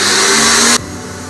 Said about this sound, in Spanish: Y ahora voy a subir y batir unos 3 minutos.